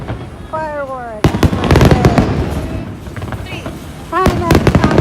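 Fireworks burst at the Kameoka fireworks festival in Japan, a loud dense run of cracking explosions and crackles with whistling rising shells, heard near with crowd noise around.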